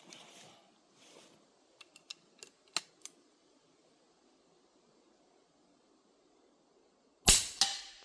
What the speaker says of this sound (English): Oh, now I'm shooting too far right.